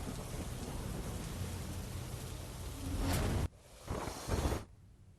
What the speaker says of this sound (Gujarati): પાલડી વિસ્તારમાં વરસાદી છાંટાની શરૂઆત થઈ છે